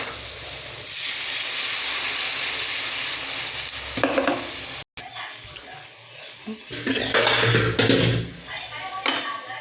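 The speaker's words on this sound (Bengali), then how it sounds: "এবার আমি দিয়ে দেবো জল" Water poured into a hot pan of curry with tengra fish, potatoes and mango, setting off a loud burst of sizzling and hissing steam, followed by stirring noises and a voice talking.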